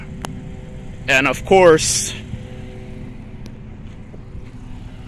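An old, primitive Geo Tracker on the road, its engine and road noise a steady low rumble throughout, with a person talking briefly over it.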